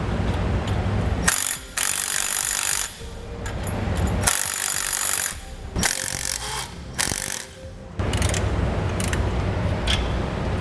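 A ratchet torquing the clamp bolts on Air Lift LoadLifter 5000 rear air helper springs, loud close bursts of rapid clicking pawl strokes in several runs separated by short pauses.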